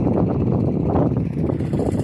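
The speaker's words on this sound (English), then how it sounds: "it's gotten windy" Wind gusts across a garden being tilled, a continuous low rumble of wind buffeting the microphone with slight rustling, steady and fairly loud with no voices.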